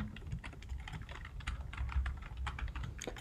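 Rapid typing on a computer keyboard while writing JavaScript code, with quick irregular clusters of clicky key taps and occasional heavier strokes, heard close and alone without speech.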